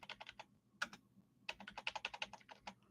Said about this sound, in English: Keyboard gone wild this time instead of the mouse